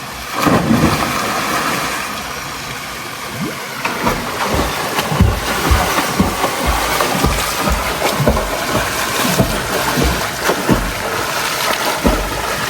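Splashing and churning of cold river water as a person dives in and surfaces on a hot day in Kashmir, a loud broadband wash with repeated bursts of sloshing close by, no talk.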